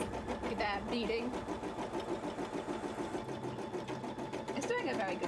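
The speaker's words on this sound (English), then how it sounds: "It's doing a very good job today, my embroidery machine" An embroidery machine runs continuously with quick, regular needle clatter and a mechanical hum, close by while a person talks over it, used for making a cosplay contest entry.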